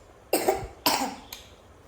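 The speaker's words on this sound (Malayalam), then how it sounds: "ചുമച്ച് കാണിച്ചു തന്നു കേട്ടോ" A child gives three dry coughs at home, the first two close together and fairly loud, the third short and fainter, with no talking over them.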